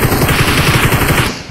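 Machine gun in a video game firing a rapid, even burst of loud shots at close range, about a dozen rounds in steady rhythm before it stops abruptly.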